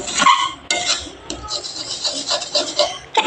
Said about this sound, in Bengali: এবার ভালোভাবে অনেকক্ষণ ধরে নেড়ে নিতে হবে